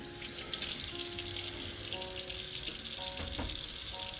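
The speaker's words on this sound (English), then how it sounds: "I got my thrifted stock pot. I just want to make sure it's rinsed." Tap water runs steadily into a thrifted stock pot being rinsed in a sink, a continuous close rush with a few faint clinks and tonal ringing.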